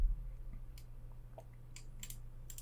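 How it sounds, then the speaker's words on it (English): A few sharp, quiet key clicks from a computer keyboard sound close by, spaced irregularly over a low steady hum, with no talk. "click the Tab key"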